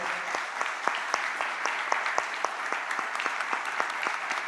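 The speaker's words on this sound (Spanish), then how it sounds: "con este aplauso para ellos" The audience at a regional nursing conference gives a warm, steady round of applause for the morning's speakers, many hands clapping in a dense, even wash with distinct sharper claps standing out, moderately loud and unbroken.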